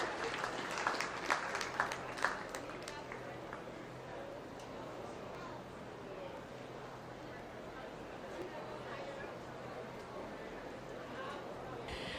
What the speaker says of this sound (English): Let's give them all another great big round of applause when they get out there.